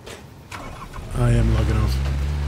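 A car engine in a video game cranks and catches, rising into a loud steady idle after about a second, with voices talking over it.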